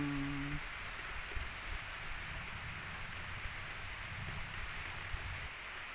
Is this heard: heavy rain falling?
yes